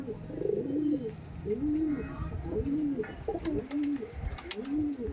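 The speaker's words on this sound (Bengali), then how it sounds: "এই নাপ্তা পেয়ারটা গিরিবাজ নাপ্তা পেয়ার, এক পেয়ার গিরিবাজ পায়রা আছে" Giribaz pigeons cooing close by, a series of soft, rounded, repeated coos in a loose rhythm, with faint clicks and background rustle.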